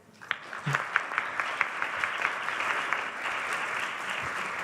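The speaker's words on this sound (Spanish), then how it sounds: "Que se escuche fuerte el aplauso para Carla González." An audience applauds Carla González at a solidarity event, starting with a few separate claps that quickly build into steady, fairly loud clapping that keeps going.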